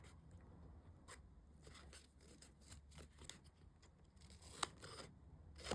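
Scissors snip paper corners for a fall scrapbook binder album, giving a string of soft, quiet close cuts and rustles at an irregular pace, with no talk.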